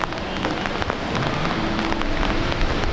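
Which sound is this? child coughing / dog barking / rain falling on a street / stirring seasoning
rain falling on a street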